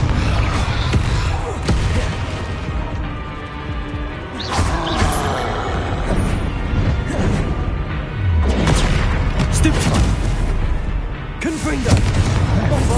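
Confringo fire spells blast several times in a Hogwarts Legacy battle, with sharp booming hits spaced irregularly through dense, loud fight noise.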